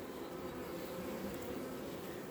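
Honey bees swarming densely around a hive colony in a honey super, giving a steady, close, continuous buzzing hum with no voices.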